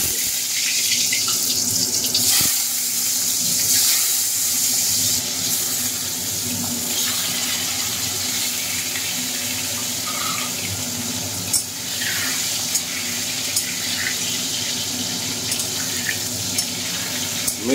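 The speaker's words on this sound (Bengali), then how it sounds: "বেগুনগুলোকে ভেজে নিচ্ছি" Eggplant pieces fry in hot oil over a medium flame for an ilish fish curry, giving a steady, close, fairly loud sizzling hiss that runs throughout with small crackles and no talking.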